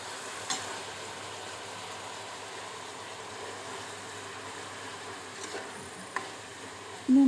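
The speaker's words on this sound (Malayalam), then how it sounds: "നമുക്ക് വേഗം വാടി കിട്ടാൻ വേണ്ടിയിട്ട് കുറച്ച് ഉപ്പ് ചേർത്ത് നമുക്ക് ഇളക്കാം" Sliced onions fry with salt in a pan for Thalassery dum biryani, giving a steady, soft sizzling hiss with a few faint clicks and scrapes, heard alone without any voices.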